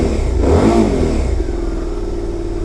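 A QJMotor SVT 650 adventure motorcycle's engine fires up nearby, swells in a brief rev, then settles into a steady, even idle with no talking.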